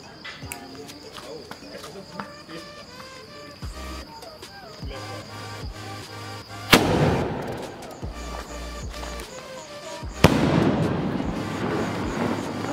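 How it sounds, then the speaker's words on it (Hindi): A big sky shot firework during a Diwali celebration is lit, then launches with a sharp crack followed by booming bursts and crackling, with people talking before and between the blasts. "ये रहा बड़ा वाला स्काई शॉट, लगाते हैं बड़े स्काई शॉट पे आग"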